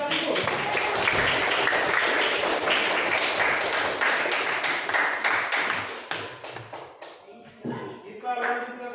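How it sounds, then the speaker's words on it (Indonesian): A classroom group of teachers and students clapping together, a loud dense burst of hand claps that fades over the last few seconds into scattered taps and murmuring voices. "tepuk tangan yang meriah sekaligus"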